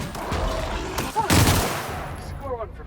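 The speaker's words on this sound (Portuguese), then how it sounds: "Não gosto de arma de rajada" A burst-fire gun in The Outer Worlds fires a quick cluster of loud shots in the middle, set against game ambience and faint background noise.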